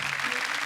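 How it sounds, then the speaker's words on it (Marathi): A studio audience at a Marathi TV comedy show breaks into steady, dense applause that fills the whole short moment, close and even in loudness. "जोरदार टाळ्या"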